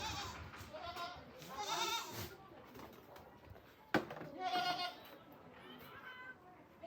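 A goat offered at a village temple bleats a few times amid a busy outdoor crowd, its cries rising over steady background chatter and nearby voices.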